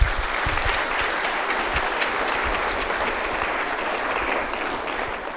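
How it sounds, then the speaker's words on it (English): Steady audience applause following an inaugural professorial lecture in a university hall, dense and sustained clapping at moderate level, tapering slightly toward the end. "So can we give him another round of applause"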